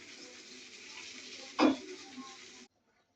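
Oil heats in a wok for a bottle gourd curry, giving a soft, even sizzle broken by one sharp clatter midway before the sound cuts off near the end.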